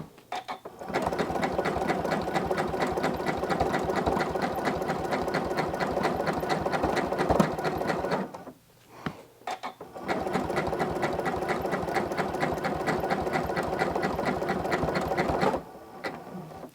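A sewing machine stitches free-motion quilting that couches yarn onto a quilt, running as a fast, steady, loud mechanical chatter. It stops briefly partway through, then resumes at the same even pace.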